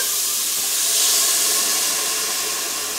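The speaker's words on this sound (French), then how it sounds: "Là, on va ajouter le vin rouge." Red wine hits a very hot pot while a pork and tomato stew is being cooked, giving a loud, steady steam hiss and sizzle that swells slightly midway and runs continuously without any talk.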